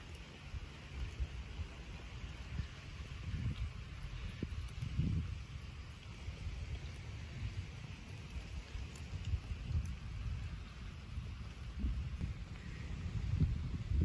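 Steady rain patters faintly in the background, with low rumbles of distant thunder rolling through now and then.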